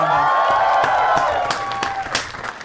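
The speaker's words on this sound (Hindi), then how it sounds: "जोरदार तालियां for Raghu" A studio audience at a comedy talent show breaks into applause to welcome a guest, a brief burst of clapping with crowd noise under a voice.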